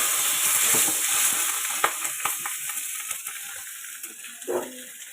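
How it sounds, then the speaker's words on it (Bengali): Oil sizzles steadily around pieces of fish frying in a pan, with scattered clinks and scrapes of a utensil nearby. "এখানে একটু মাছ ভাজা একটু ছাড়বো।"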